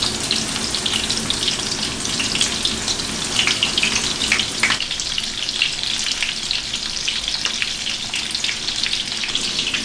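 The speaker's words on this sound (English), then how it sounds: "Let's go ahead and get some olive oil in our pan and get this fish just searing up nicely." Remora fish fillets searing in olive oil in a pan, giving a steady, loud, close sizzle with crackling pops that runs unbroken for the whole stretch, with no voices.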